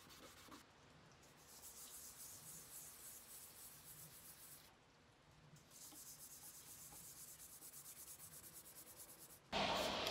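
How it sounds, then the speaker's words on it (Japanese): Hand sanding of a repaired FRP surface, continuous close rubbing and scraping strokes in two long passes with a brief pause between, no talking. "こっちはもう手作業で削っていきます"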